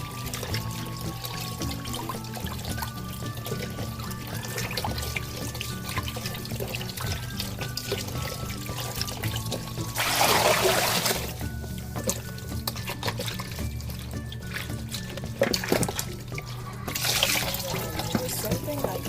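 Boiling water poured over raw meat being cleaned in a kitchen, a steady splashing pour that surges louder in two bursts, with people talking throughout.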